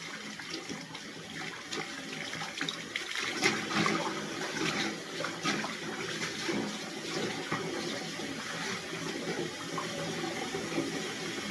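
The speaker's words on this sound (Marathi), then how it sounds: "तर आता आपण हाताने कपडे धुऊयात" Clothes are washed by hand in water, with continuous close splashing, sloshing and swishing of wet fabric amid running water, steady and moderately loud throughout.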